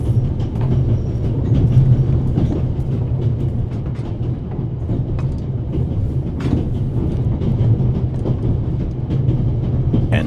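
A train rolls along rails in the video game The Raven Remastered, a steady loud rumble with faint rhythmic clacks running throughout, no voices over it.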